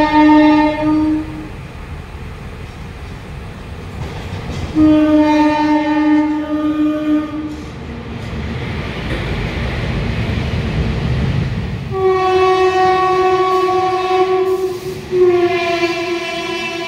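The Samudra Kanya Express at Panskura junction sounds its horn loudly in several long blasts over a steady rumble of rolling wagons, with no voices.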